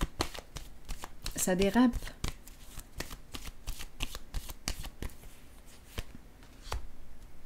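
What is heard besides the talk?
placing playing cards down on a table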